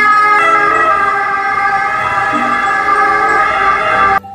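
A loud ambulance siren wails continuously at close range, its tone holding steady before cutting off abruptly near the end.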